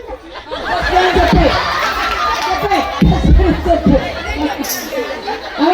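Audience members and children at a Telugu Christian skit chatter, laugh and call out together, a busy crowd murmur with chuckles rising and falling throughout.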